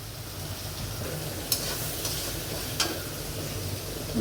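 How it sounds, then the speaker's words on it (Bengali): Onion with green chilies and a pinch of salt frying in a pan for a fish-head muri ghonto, a steady soft sizzle with a few faint stirring clicks throughout. "পেঁয়াজটা আমি ভেজে নিই।"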